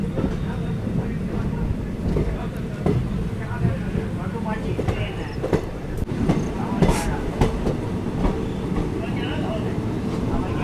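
A train runs along a Rajasthan railway route near Chittorgarh in the monsoon, its steady rumble continuous and fairly close throughout, with scattered clicks and rattles of the wagons over the track and voices in the background.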